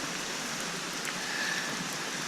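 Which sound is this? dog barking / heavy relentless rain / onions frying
heavy relentless rain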